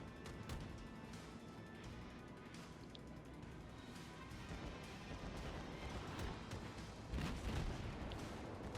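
A North Carolina battleship's main guns fire in World of Warships, a distant rumbling barrage under steady battle ambience that builds to a heavier boom near the end.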